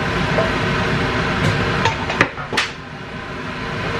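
Browned potatoes tipped from a pan into a cooking pot for Japanese curry, giving a few close clattering knocks and scrapes of food and metal over a low steady kitchen hiss.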